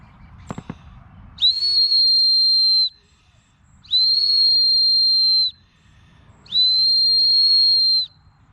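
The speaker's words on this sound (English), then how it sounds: "And there's a whistle on it too." A survival whistle built into a custom knife sheath gives three long, shrill, steady blasts, each lasting over a second with short pauses between, preceded by a couple of faint clicks.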